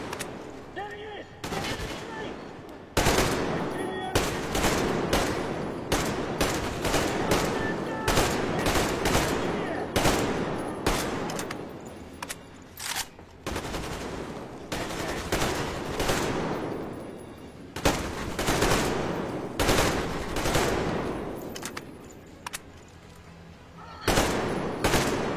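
Rapid bursts of gunfire in a first-person shooter video game, loud and dense with repeated volleys and brief gaps, sustained for most of the stretch.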